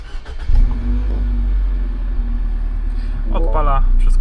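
MINI Countryman engine cranking and catching after a newly coded key is used, rising into a steady close idle; a person talks over the running engine.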